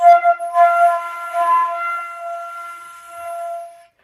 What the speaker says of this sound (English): Another type you might be hearing is a weak airstream.